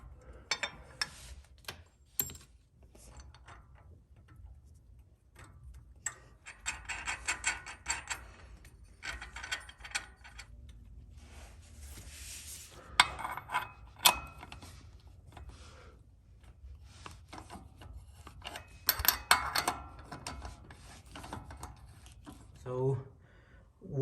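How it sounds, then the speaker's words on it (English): Bolts on a Rough Country dual steering stabilizer kit for a Ford F250 are tightened down with a ratchet, giving quiet bursts of clicking and metallic clatter alongside someone talking. "you're gonna line them right underneath this and bolt them down"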